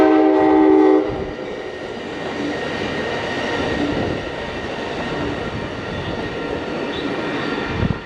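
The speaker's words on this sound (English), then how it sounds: "It's got a loud horn though." A commuter train's loud horn blares for about a second along the Carquinez Strait near Crockett, then fades into the continuous rumble and clatter of the passing train.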